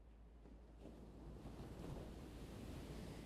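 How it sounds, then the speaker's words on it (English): Soft, continuous wash of ocean surf, a wave swelling and rolling in, with breezy wind noise; faint and steady. "listen to the waves as you watch them roll in toward you."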